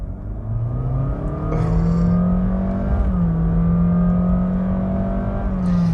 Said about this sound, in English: Let me slow down to about 25 miles per hour, foot down.